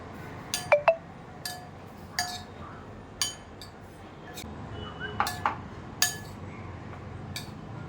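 Paneer salad with dressing is stirred in a bowl, giving sparse, sharp clinks of a utensil against the dish at irregular intervals, with quiet pauses between.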